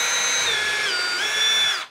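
A cordless drill runs steadily, its high motor whine dipping and rising in pitch as the trigger speed changes, close and loud for about two seconds before stopping.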